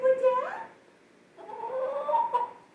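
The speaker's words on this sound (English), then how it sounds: "I got a chicken in my kitchen just wandering around." A chicken wandering loose inside a home kitchen gives two short vocal calls, one at the start and a longer, wavering one after a pause, moderately close and fairly quiet.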